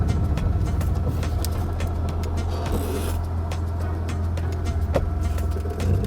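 A BMW M3 E36 under restoration drives with a steady low engine hum and cabin rumble, with small mechanical clicks and a clunk as it is shifted into first gear.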